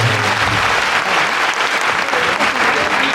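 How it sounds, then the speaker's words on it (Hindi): Loud, sustained applause from a large crowd at a school annual day function in Mumbai, with dense continuous clapping filling the hall from start to finish. "एक बार जोरदार ताली दीजिए।"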